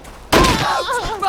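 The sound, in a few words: gunshots in the video game We Happy Few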